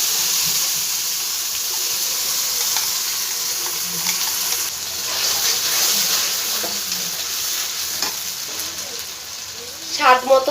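A ground spice paste frying in a pan gives a steady, loud hiss and crackle throughout, with a few scraping stirs near the end, close by and without talking.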